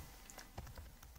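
Quick, faint keystrokes on a computer keyboard while working in Figma, a short run of soft clicks at a quiet level with no talking.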